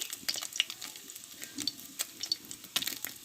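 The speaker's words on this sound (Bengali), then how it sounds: "মাছটা দুই পিস ভালোভাবে ভেজে নিয়েছি আমি এবার তেল থেকে মাছগুলোকে আমি তুলে নেব" Two pieces of small fish crackling in hot oil while being stirred and lifted out, a soft sizzle broken by irregular scraping clicks and light taps, near and fairly quiet, no voices.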